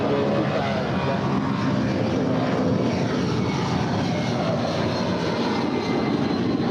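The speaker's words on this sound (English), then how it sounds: "That is Delta 8949 departing to San Jose, California. It's a 757-200." A Delta Boeing 757-200 jet airliner departs LAX bound for San Jose, its engines producing a loud, steady, broadband roar that fills the whole clip without break.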